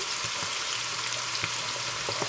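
One medium onion sizzling steadily in hot oil in a pan for a Guyanese hassar curry with eddoes, a constant bright crackle and hiss with small pops, close and alone.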